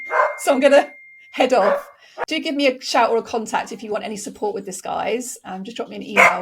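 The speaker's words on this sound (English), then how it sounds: "You can probably hear my dog barking in the background now." A pet dog barks in the background, brief yips and woofs partly buried under a person talking close to the microphone throughout.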